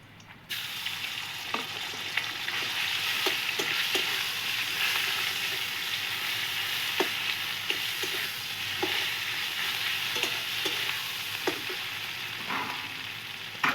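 Bean paste with crushed garlic sizzling in a frying pan, a steady broadband hiss with occasional clicks of a spatula stirring, close and continuous throughout.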